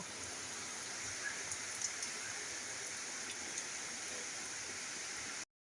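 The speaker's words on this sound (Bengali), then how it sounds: "আমাদের এখানে বৃষ্টি হচ্ছে বন্ধুরা বেশ জোরেই এসেছে" Heavy rain pours steadily with an even, hissing wash of noise, moderately quiet and without talk, then stops abruptly.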